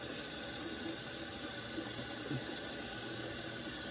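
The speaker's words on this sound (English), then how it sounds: "first thing I'm gonna do is rinse this out really good" Running tap water rinses something out at a bathroom sink, a steady, fairly faint splashing stream throughout with no talk.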